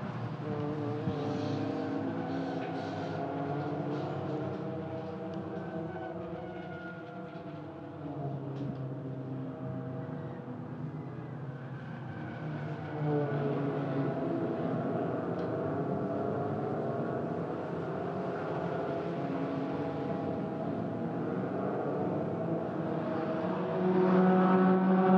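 Peugeot 208 race cars circling the Magny-Cours track behind the safety car, a steady blended engine drone that swells and fades slightly as the cars pass, continuous throughout with no voices.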